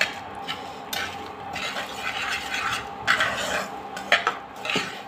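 Salt dry-roasting in a home kitchen pan, chillies mixed in, is stirred steadily, giving a continuous close gritty scraping with occasional sharper clinks of the utensil against the metal. No voices.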